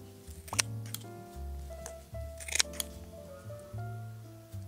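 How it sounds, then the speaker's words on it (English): Sprigs of dill and rosemary snipped in a herb spiral garden, giving a few quick, close, crisp snips spaced across the moment against a quiet outdoor background. "So let's just cut some aromatics"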